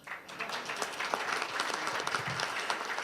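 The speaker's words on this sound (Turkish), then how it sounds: "kaptan şoförlerimizi tekrar yeniden tebrik ediyoruz ve alkışlarla uğurluyoruz kendilerini" An audience applauds steadily at a corporate award ceremony honouring captain bus drivers, a continuous wash of clapping from a hall crowd, moderately loud and even for the whole stretch.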